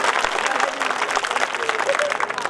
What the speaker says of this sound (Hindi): जरा मन भर के इसको तालियां दीजिए, ताकि हमें इस मंच से कविताएं सुनाने की हिम्मत मिले